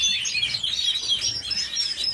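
Young canaries almost fully feathered in a flight cage chirp in quick overlapping high tweets, several birds at once, moderately close with a soft background hiss.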